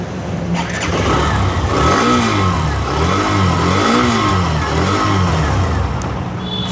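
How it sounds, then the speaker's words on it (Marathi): A Hero Xtreme 125R motorcycle engine running close by, starting, then rising and falling through several revs in a smooth, steady drone that fills the whole stretch with no talk. "तुम्हाला मी आता गाडीचं साऊंड ऐकून देतो."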